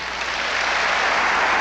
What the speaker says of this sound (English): He's now sitting up and get a well-deserved applause from the crowd here.